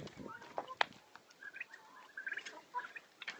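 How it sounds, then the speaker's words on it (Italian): Turkeys on an Italian farmyard gobble and chirp in short warbling bursts at a moderate distance, mixed with other fowl calls, a low rustle of movement and no talk over them. "vi faccio vedere i miei tacchini"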